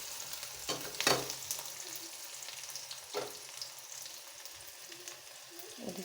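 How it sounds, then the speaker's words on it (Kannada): Chopped onions fry quietly in a pan while Kannada-style seeme badanekai (chayote) curry is prepared, a soft steady sizzle with a few clinks and scrapes of stirring; no one talks. "ಇವಾಗ ನೋಡಿ ಈರುಳ್ಳಿ ಚೆನ್ನಾಗಿ ಫ್ರೈ ಆಗಿದೆ."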